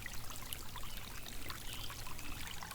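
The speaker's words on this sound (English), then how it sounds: "I'm going to try to fill up the gallon in this" Water runs steadily outdoors while a gallon jug is filled, a continuous close trickling and pouring stream that holds an even level throughout with no voices.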